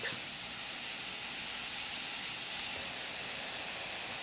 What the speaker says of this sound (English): I think it's really shooting out some steam.